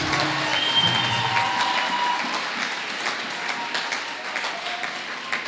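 Church congregation applauding together during a worship service, sustained clapping from many hands at close range with a few scattered voices and cheers mixed in.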